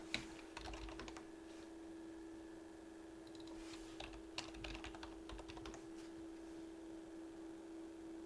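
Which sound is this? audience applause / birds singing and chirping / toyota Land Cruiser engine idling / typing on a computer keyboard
typing on a computer keyboard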